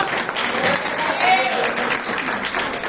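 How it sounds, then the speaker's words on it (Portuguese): Church congregation applauding during a Thursday worship service, a dense wash of clapping filling the room, with a voice speaking over it. "Aplauda Jesus, aplauda Jesus."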